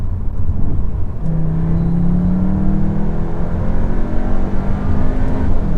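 Engine of a Cupra Leon 300 revving as the car accelerates hard in Cupra mode, a steady loud drone with rising tones and no talk over it.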